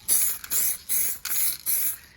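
A rattle can of car spray paint with a fan nozzle fires five short, even hissing bursts in quick succession, each about a third of a second, close and crisp.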